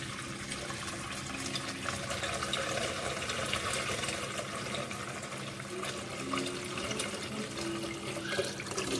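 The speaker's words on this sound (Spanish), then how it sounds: "le vamos a poner agua caliente" Hot water poured from a kettle or pot into a pan of sofrito while cooking Moroccan berkoukes, a steady splashing, trickling pour that continues evenly close by with no talk over it.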